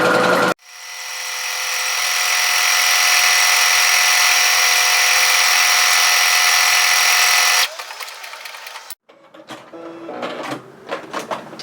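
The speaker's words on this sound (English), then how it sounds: "just stitch a buttonhole in" A sewing machine stitches a buttonhole on a longline hoodie in one long, steady, close mechanical whir that ends abruptly, followed by scattered handling clicks and rustles.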